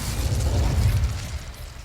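Incendio fire spell bursting in Hogwarts Legacy, a dense low rumbling whoosh of flame that holds steady for nearly two seconds and then fades slightly, with no talk over it.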